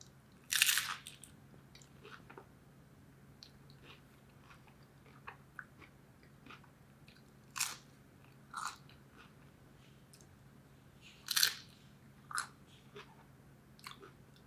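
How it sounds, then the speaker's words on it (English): Crunchy nacho tortilla chips are bitten in sharp, close crunches at irregular intervals, roughly seven or eight bites spread over a quiet background, with no talking. "The chips are still so crunchy."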